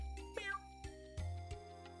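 A cat meows twice in the Wild ARMs 2 video game, clear synthesized calls over steady game music with a low droning tone.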